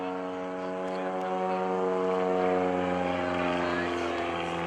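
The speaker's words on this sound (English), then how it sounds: "snapping the airplane around there at the top" An Extreme Decathlon aerobatic airplane flying a display at the 2013 Greenwood Lake airshow drones with a steady, buzzing propeller-engine tone, heard from a distance and holding fairly constant loudness throughout.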